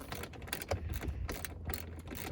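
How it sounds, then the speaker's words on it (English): Quick repeated ratchet clicks from a socket wrench tightening a long bolt for a subwoofer amp ground wire in a 2015 Ford F-150, close and faint, in short uneven bursts. "I'm just gonna tighten this bolt down for the grounding wire to the amp back there."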